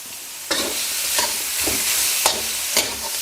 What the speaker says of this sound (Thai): ผัดคลุกเข้าให้เข้ากันได้เลย